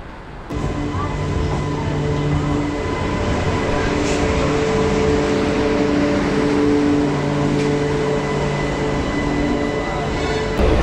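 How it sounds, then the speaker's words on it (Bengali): An Asansol-Ranchi MEMU passenger train pulls out of Purulia Junction with a loud, steady rumble and a droning motor hum that continue unbroken throughout. "আসানসোল রাঁচি মেমো প্যাসেঞ্জার ছাড়ার কথা ছিল ঠিক 7:20, 6 মিনিট লেট করে ছেড়েছে"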